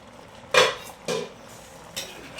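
Metal pot lid lifted off a cooking pot of bottle gourd and lentil kootu, giving two close clanks in quick succession and then a softer clink.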